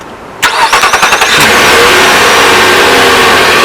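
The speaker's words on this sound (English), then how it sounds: "I'll go ahead and do the remote start for you" A 2018 Nissan Pathfinder SV engine, remote started, cranks with a quick stutter, catches, and settles into a loud, steady running rumble close by.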